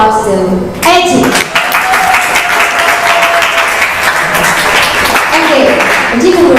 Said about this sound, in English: Friends, please give a big round of applause to Eddie